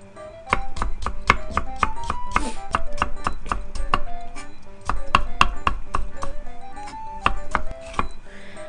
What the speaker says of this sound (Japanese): 人参は斜めに薄切りして、そしてね、細切りにするよ